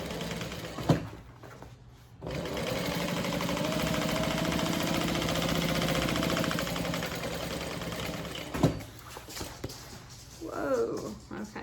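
A sewing machine runs a steady stretch of top stitching on a handbag, a continuous mechanical whir lasting several seconds between softer handling noises, close by.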